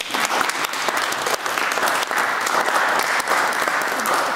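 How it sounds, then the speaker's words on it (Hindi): Loud, dense applause from an audience at a church ladies' Advent celebration carries on steadily without a break, with no voices over it. "एक दफा इनके लिए ताली।"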